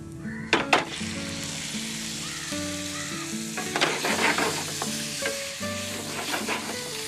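Finely chopped squid rings sautéing in a pan at a cookery show at Punnamada Resort, a loud continuous sizzle with several sharp stir and spatula clinks against the pan, alone without talk.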